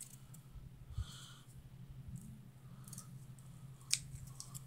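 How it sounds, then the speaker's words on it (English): Scissors snip the ears off a paper punch-out, with two quiet, distinct cuts about three seconds apart over low background hum. "We're going to cut these 2 ears off."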